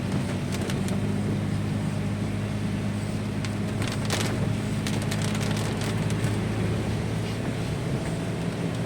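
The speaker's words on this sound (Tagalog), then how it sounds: "Lakas na yung ulan, grabe." Heavy rain from Typhoon Carina pours steadily onto a campsite, a dense, constant roar with scattered sharp drips and knocks and a low rumble beneath.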